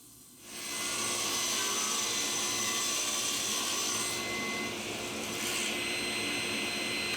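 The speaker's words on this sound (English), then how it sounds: "using the crosscut sled on my table saw, I can cut them all to length" A table saw with a crosscut sled cuts wooden cabinet parts to length, a loud continuous motor whine rising after a brief quieter start and holding steady, with slight shifts in pitch as the blade passes through the wood.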